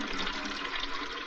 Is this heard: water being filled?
yes